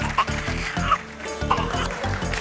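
A voice imitates a crow's cawing, giving three short nasal calls spaced about half a second apart over a busy background of other sounds.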